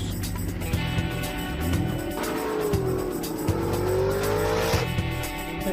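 Supercharged LSX-powered drift car revving hard on a track, engine note rising and falling while tires squeal in long sliding wails, loud and fairly close amid a busy, noisy trackside background.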